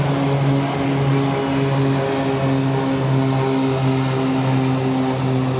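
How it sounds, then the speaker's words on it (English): A Cape Air propeller plane takes off at Boston Logan Airport, its engine droning loud and steady with a strong low hum that holds through the whole stretch, alone without any voices. "Another Cape Air taking off."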